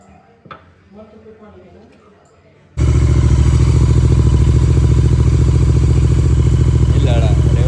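After a quiet stretch of faint background sounds, a motorcycle engine suddenly starts close by and settles into a loud, steady idle with a rapid, thumping exhaust pulse.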